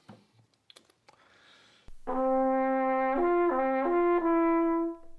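A few soft mechanical clicks, then a horn plays a G, a loud sustained note that shifts between nearby pitches for about three seconds before stopping.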